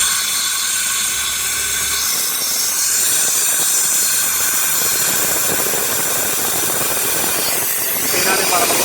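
Air compressor releasing pressure while being bled down toward 40 PSI, a loud steady hiss of escaping air with engine-like roar over the whole stretch, the rush swelling briefly near the end.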